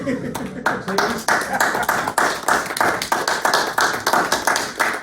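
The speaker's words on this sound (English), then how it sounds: "If we could just pretend you were applauding for somebody, please." A small crowd claps on request at a community gathering, the applause sparse and uneven with individual claps standing out, mixed with some chatter and voices throughout.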